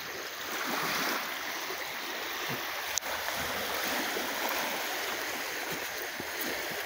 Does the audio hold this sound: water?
yes